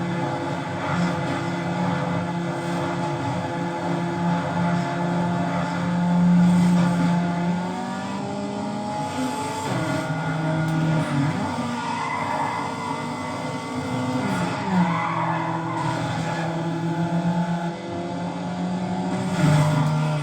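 Race cars in the video game Need for Speed Underground drone along with continuous engine tones that rise and fall through a close race, with no talking over them.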